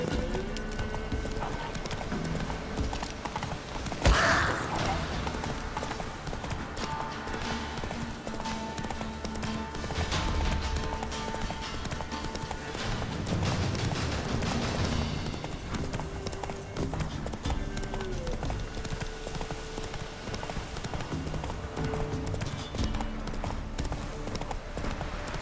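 Roach the horse gallops in The Witcher 3, a steady rapid clip-clop of hooves running under in-game music and ambience, with a brief whinny partway through.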